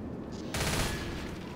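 Rapid automatic gunfire in the zombie shooter Left 4 Dead, a dense, loud, continuous barrage that starts abruptly and fills the moment alone.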